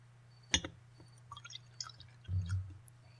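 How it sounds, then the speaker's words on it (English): A drink called squall is poured into a glass in a quiet, close-up ASMR roleplay: a soft splash, a few delicate drips, then a brief gentle trickle. "I will pour you some squall."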